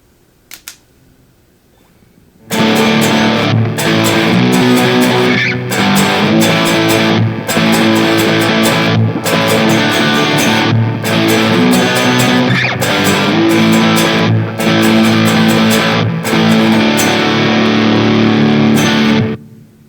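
A loud electric guitar with heavy overdrive from a Big Joe Stompbox pedal plays chugging riffs with brief pauses, starting after a couple of seconds of near silence.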